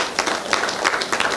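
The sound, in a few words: audience applause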